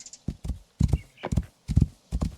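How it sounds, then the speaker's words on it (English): A horse in the video game Rising World clip-clops along in even, repeated pairs of hoof strikes, close and fairly loud with no other sounds. "Oh, we got a horse!"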